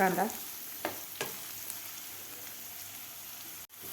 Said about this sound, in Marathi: कापून घेतलेला कांदा सुद्धा आपल्याला 2 ते 3 मिनिट परतून घ्यायचा आहे